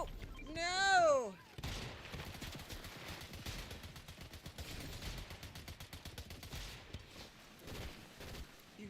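Rapid bursts of Fortnite shotgun and other gunfire crackle through a busy firefight, with a swooping whistle-like effect opening the sequence and dense repeated shots continuing to the end.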